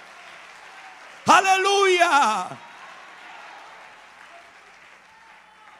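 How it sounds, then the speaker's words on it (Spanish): A church congregation claps during a sermon on inner healing. A loud voice shouts over the start, then the steady clapping continues more softly in the background of the hall. "Aplaude fuerte a Dios."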